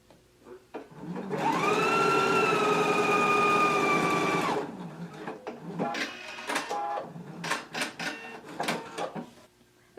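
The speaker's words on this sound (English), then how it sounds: "Now I can take it to the machine and we're going to stitch in a 5/8 of an inch seam allowance." Up close, a sewing machine stitches a 5/8 inch seam on a shirt sleeve. It is a loud, steady motor whine with a humming pitch for about three seconds, then stops, followed by clicks and rustling handling noises.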